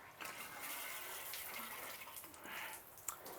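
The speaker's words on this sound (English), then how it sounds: "So we're now going to give it a water." Water sprinkling from a watering can onto freshly sown lettuce seeds in a planter, a steady soft hiss of flowing water lasting a few seconds with no talking.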